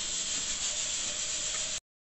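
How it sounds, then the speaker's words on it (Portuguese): Steam hisses steadily from a pressure cooker as the pressure is released while soup cooks, a loud continuous bright jet lasting under two seconds and cutting off abruptly. "tira a pressão e deixa ele terminar de sair a pressão da panela"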